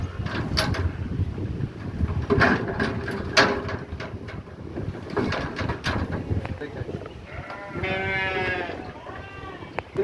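Sheep bleating while standing on a weighing scale on a farm, several harmonic bleats near the end over clanking metal and speech, with rattling mechanism noises throughout.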